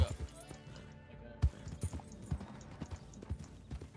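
Rhythmic clip-clop of a horse's hooves in the video game Red Dead Redemption 2, close and fairly quiet, with speech and soft game sounds alongside.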